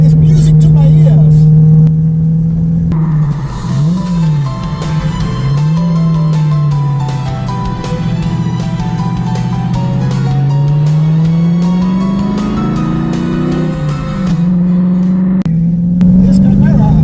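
A TVR Chimaera 500 V8 sports car rumbles steadily on a mountain pass road, its deep engine note rising and falling with the throttle, loud and close throughout, with a voice speaking over it.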